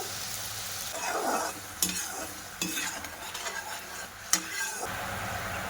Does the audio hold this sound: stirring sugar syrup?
yes